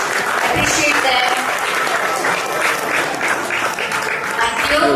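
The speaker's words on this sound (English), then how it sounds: "Everyone take a moment to applaud them, appreciate them." An audience at a live AI hackathon event applauds, a dense, loud, continuous clapping from a large crowd that holds steady for several seconds without talk over it.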